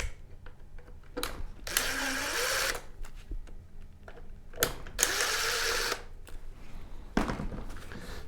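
Screws come out of the back plate of a Sony XBR 75X850E television under a powered driver, which whirs in three close bursts, the last one short, separated by quieter handling.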